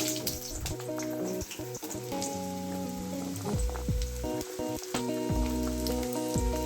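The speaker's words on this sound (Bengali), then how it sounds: "আলুটা দিয়ে হালকা করে ভাজবো" Potato pieces frying in hot oil in a kadai that already holds bay leaves and a dried red chilli: a steady, close sizzle with a fine crackling hiss, heard under music and running without a break.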